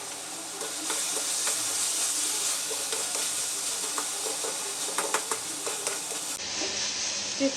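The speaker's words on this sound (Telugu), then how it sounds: "అన్ని టమాటాలు ఉల్లిపాయలు అన్నీ బాగా వేగిపోయినాయి" Chopped tomatoes and onions fry in a pan for a soya chunks curry. A steady loud sizzle runs throughout, with scattered clicks and scrapes from stirring, and it drops sharply in level near the end.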